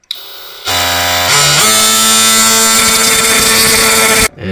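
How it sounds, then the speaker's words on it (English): An oscillating multi-tool fitted with a titanium metal blade cuts through material, a loud steady buzzing whine that starts abruptly, runs continuously for about four seconds with a brief pitch shift near the start, then stops. "So we use the multi-tool to cut this."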